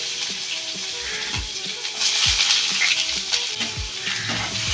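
Chopped onion fries in hot oil with black cumin for a Bengali ridge gourd and potato curry. A close, continuous sizzle is broken by repeated soft scraping taps as the onion is stirred.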